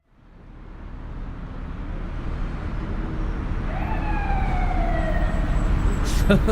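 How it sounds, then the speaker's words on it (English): Constant roar of city traffic with a wailing siren rising and sweeping in the distance, growing louder toward the end. "This is just like a city street with a siren on it."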